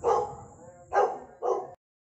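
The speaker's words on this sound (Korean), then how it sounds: "컹컹 짖네요." A Jindo dog barks three times, loud and close, with short pauses between the deep barks, then falls silent.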